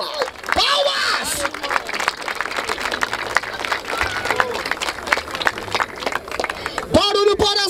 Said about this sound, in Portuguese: Pô, palmas!